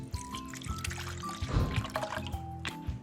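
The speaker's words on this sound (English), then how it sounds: "I'm gonna put some sake" Sake trickles and splashes quietly into a cooking pot for fish simmering, a soft liquid pour heard up close under low kitchen clatter.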